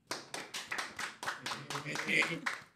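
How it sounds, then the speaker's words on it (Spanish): Quiet, rhythmic clapping of around a dozen beats greets a dancer in a studio setting, close and fairly soft, with a voice faintly underneath. "Recibámoslo con fuerte aplauso"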